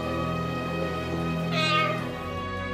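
A parrot imitates a cat's meow, producing a drawn-out, tonal mewing cry that rises and falls over a couple of seconds against a steady background hum.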